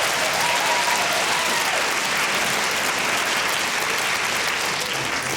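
Audience at a stand-up comedy show breaking into loud, sustained applause that fills the whole stretch evenly, dense and close without any talk over it.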